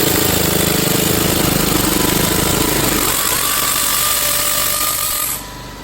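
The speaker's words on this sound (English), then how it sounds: "this impact ratchet can take off a nut that's torqued to 60 foot-pounds" A Harbor Freight Earthquake air impact ratchet loosening a nut torqued to 60 foot-pounds, a loud continuous pneumatic rattle and whir that runs steadily for about five seconds before cutting off abruptly.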